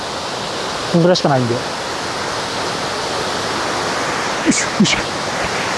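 Waterfall at Ōtaki in Yokoya Gorge, Nagano, pouring into its plunge pool, a steady broad roaring rush close by, with someone speaking briefly over it.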